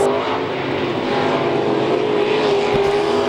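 IMCA Sport Mod stock cars roar past in a heat race on a dirt oval, a loud steady engine drone with a whining pitch that holds throughout, close and continuous with no talk.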